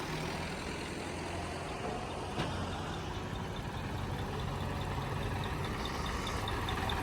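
A Massey Ferguson tractor, a 2635 or 246, idles with a steady, even rumble at a fair distance, parked and ready for langar sewa on a foggy morning, with no voices.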